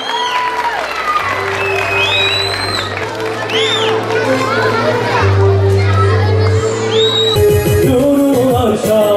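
Applause and cheering from a lively, child-filled crowd at a Ramadan event: loud clapping mixed with excited shouts and whoops from children, layered over sustained music throughout.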